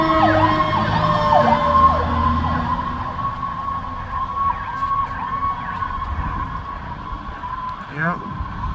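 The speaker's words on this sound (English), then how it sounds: "I think the ladder truck went first and now the engine." A fire engine from Mechanicstown, New York, wails its siren while responding to a fire alarm activation, loud and steady with rising and falling sweeps as people talk nearby; a short horn-like blast comes near the end.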